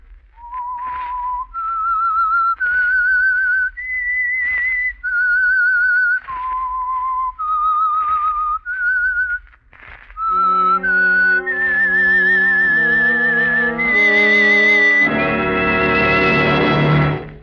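Whistled theme signal of the radio mystery program The Whistler: a lone, clear melodic whistle in sustained notes stepping up and down, ending in a swelling orchestral chord that grows loud at the close.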